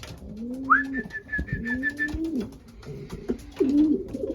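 Young racing pigeons perched outside the loft coo in a few soft, rising calls, with one clearer drawn-out note near the start over a low outdoor background.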